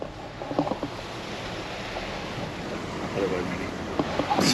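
A broad, steady rush of floodwater from a swollen main creek near an abandoned homestead fills the scene, heard outdoors with wind buffeting the microphone throughout.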